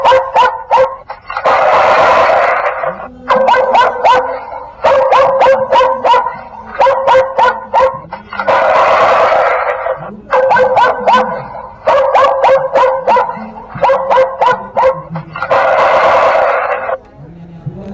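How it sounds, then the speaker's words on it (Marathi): A solar animal repeller plays recorded dog barks through its speaker: loud, repeated bursts of barking alternating with sustained howl-like cries in a regular looping pattern, close and harsh. "अशा प्रकारचे आवाज आपल्याला ऐकू येतील। कुत्र्याच्या आहेत,"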